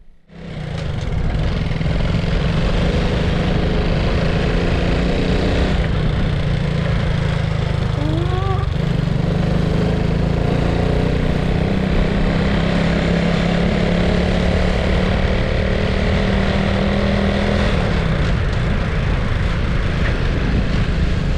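Honda Innova 125 motorcycle engine running steadily while riding, a continuous loud drone with a pitch shift partway through as it turns around, with wind rumble throughout and no talk.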